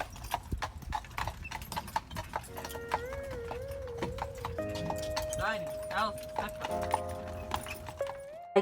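Horse-drawn private carriage on a Mackinac Island tour, with steady clip-clopping hooves throughout, accompanied by background music and some voices.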